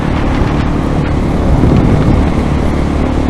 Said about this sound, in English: Still a little breezy.